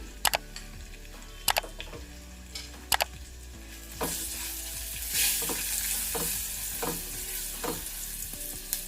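Sizzling frying with turmeric for ajwain-leaf rasam, heard as sharp spoon taps against the pan at first. A louder hissing sizzle then rises while stirring clinks continue, and no one speaks.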